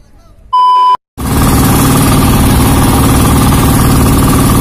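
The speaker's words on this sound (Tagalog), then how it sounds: "papaandar na tayo ng makina." A fishing boat engine fires up after a short beep and settles into a loud, steady low rumbling idle that continues throughout.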